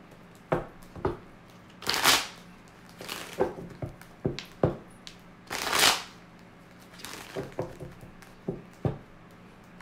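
Tarot cards are shuffled for a love reading, with a series of short, crisp riffling and slapping bursts at an irregular rhythm, close and fairly quiet.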